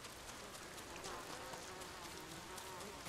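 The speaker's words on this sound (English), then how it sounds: "I hear flies." Flies buzzing in the game Ghost of Tsushima, a steady, dense insect drone mixed with soft ambient outdoor noise, continuous and moderately faint throughout.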